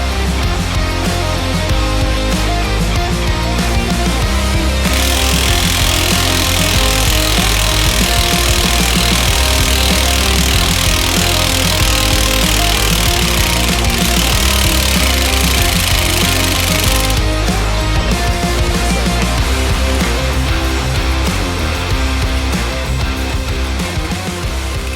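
Heavy puller working a stubborn nut off a Jeep axle yoke during a Duramax Jeep build, loud continuous grinding and hammering clatter, with a harsher, brighter stretch in the middle before easing back.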